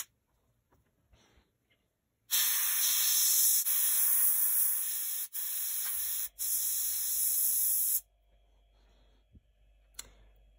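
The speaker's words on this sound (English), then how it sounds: "this one I'm gonna spray very close to the soldering mark" An airbrush sprays a black and red-brown paint mix close to a solder mark for a rust effect, giving a steady loud hiss in three bursts with short breaks, after quiet handling.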